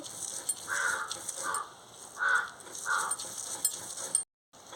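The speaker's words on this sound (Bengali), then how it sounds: "কাকটা খালি খাওয়া খাওয়া করছে" A crow near a home beside rice fields caws four times at an uneven pace, fairly close and clear, over a faint background of frying or sizzling.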